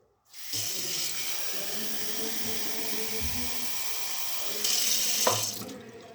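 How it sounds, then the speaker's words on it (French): Water streams steadily from a tap into a container to cover pieces of pollock for a lemon-sauce dish, a continuous close splashing rush that swells louder near the end before stopping. "Donc on va le recouvrir d'eau."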